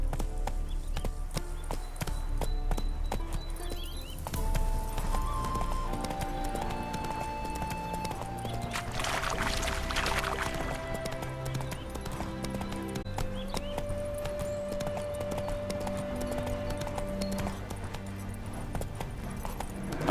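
Roach, a horse in the video game The Witcher 3, gallops with a quick, steady clip-clop of hooves, close and fairly quiet, over a musical score with a brief whinny-like burst midway.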